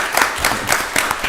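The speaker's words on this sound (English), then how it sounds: "Give them a round of applause" Round of applause at a county board of commissioners meeting: steady clapping from a roomful of people, fairly loud and continuous, with no talk over it.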